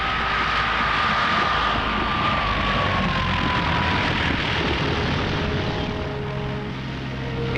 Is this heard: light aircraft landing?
yes